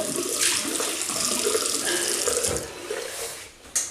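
A bathroom tap runs water while a man re-wets his face before a shave, a steady close splashing flow that cuts off near the end, followed by a brief knock.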